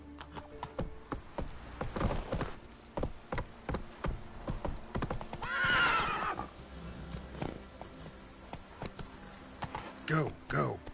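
A horse in The Witcher 3 on PS5 gallops with rhythmic clip-clop hoofbeats and lets out a loud whinny partway through, amid buzzing insect ambience.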